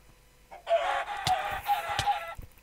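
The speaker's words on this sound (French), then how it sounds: "Oula, encore des poulets." Chickens in a video game cluck in a short burst of clucking and squawking, faint and alone, with a few sharp clicks scattered through it.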